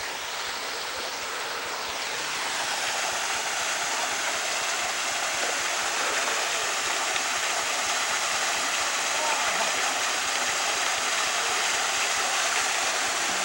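Cold water rushing at a swimming spot on the road to Hana, Maui, gives a loud, steady broadband roar that swells over the first two seconds and then holds unbroken, close to the microphone, with no clear talk.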